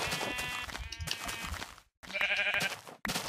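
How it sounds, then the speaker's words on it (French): Sheep bleating in a video game: several wavering, nasal bleats come in quick succession, loud and close, with a short silent gap before a final bleat. "Regardez ça, des moutons."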